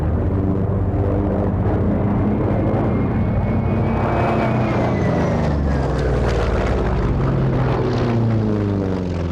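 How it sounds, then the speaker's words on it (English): A Grumman Hellcat World War II propeller fighter flies past at an airshow, its engine a loud, sustained drone that swells and shifts in pitch as it passes overhead, with no talk. "it was the next aeroplane in the Grumman genesis of fighters during World War II"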